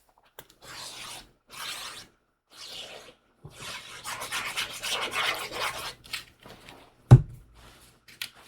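Stamped paper panel rubbed and pressed onto a card base, several short dry rasping rubs at close range, a longer scraping stretch, then a single sharp tap.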